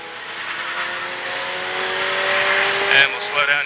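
A Ferrari 488 Challenge Evo race car drives on a track, its engine droning steadily from inside the cabin, rising in pitch under acceleration, with a brief louder surge near the end while a voice speaks over it.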